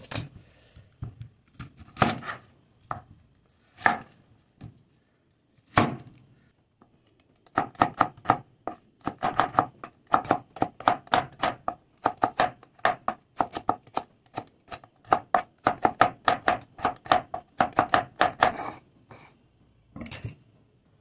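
A knife chopping onion on a board in a home kitchen, a run of sharp, close taps in quick uneven bursts with short pauses, loud and with no voice over it.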